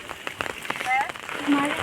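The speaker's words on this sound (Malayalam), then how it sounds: "മഴത്തുള്ളികൾ മഴ പെയ്യുന്നുണ്ടോ" Rain patters steadily on a surface nearby, with scattered drop-like taps and faint voices murmuring underneath.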